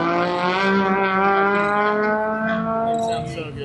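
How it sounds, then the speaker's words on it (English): A loud race car engine drones steadily at high revs, its exhaust note holding a rich harmonic tone before easing off slightly at the end. "It sounds so good with that exhaust."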